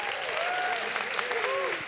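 Audience applause at a workplace skills talk, a steady wash of clapping from a crowd that fills the short moment, with faint voices calling out over it.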